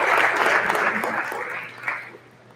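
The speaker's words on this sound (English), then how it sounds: "let's give a round of applause to these men who come to support you today" Applause from a school audience at Dobbins High School for visiting men at a male leadership day, a steady wash of clapping that slowly thins and fades over a few seconds.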